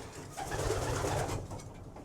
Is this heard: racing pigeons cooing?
yes